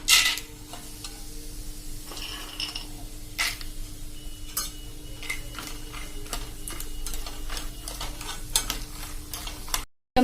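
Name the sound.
peanuts roasting in oil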